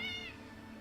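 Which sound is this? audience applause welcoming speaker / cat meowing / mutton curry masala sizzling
cat meowing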